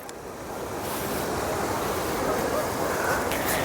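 Steady broadband rush of the Narmada River flowing close by at Omkareshwar, loud and continuous, with some wind buffeting.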